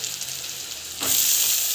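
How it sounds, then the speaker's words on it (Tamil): Onions and curry leaves sauté in hot oil in a pan. A steady close hiss swells into a louder, brighter sizzle partway through, with no talking. "நல்லா வந்து வதங்கட்டும்."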